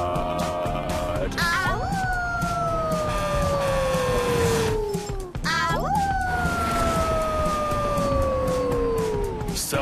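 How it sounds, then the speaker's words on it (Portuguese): A fire engine siren wails in a children's cartoon song, two long rising-then-falling howls each lasting about four seconds, loud and continuous over a busy musical backing. "São os bombeiros, a sirene vai tocar."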